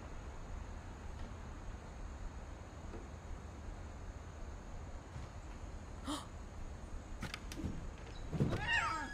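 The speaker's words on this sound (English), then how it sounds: "was that a cat?" A cat meows in the video game What Remains of Edith Finch, a short cry near the end of the stretch over a steady hiss of background noise.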